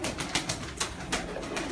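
Pigeons on a rooftop, soft repeated cooing calls close by, a few rhythmic pulses over a quiet background.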